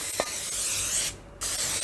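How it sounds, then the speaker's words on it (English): Cooking spray hisses steadily and generously into a cake pan for a pound cake, close and loud, with a brief pause before the spray resumes. "I'm going to spray it pretty generously"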